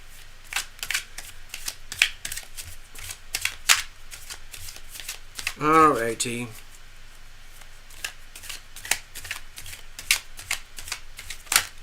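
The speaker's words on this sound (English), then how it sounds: "Cards are well shuffled" Tarot cards are shuffled by hand in a long series of crisp, quick riffles and flicks, close and fairly quiet, with a brief spoken remark partway through.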